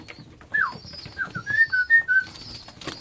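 Pigeons in a home loft, including a stray bird among a bloodline flock, give a short series of soft whistled calls and coos, close by, over faint background rustle.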